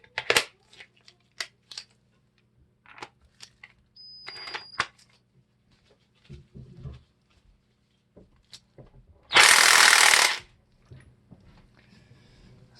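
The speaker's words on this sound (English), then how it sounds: "this is a 1 3/16 socket, and that does fit pretty good. So we're going to give that a try." A 1 3/16 socket turning a reverse-threaded nut off a 2000-2006 Honda Insight 5-speed transmission: scattered metallic clicks and ratchet-like ticks, a few soft knocks, then one loud harsh one-second burst, all close up with no talk.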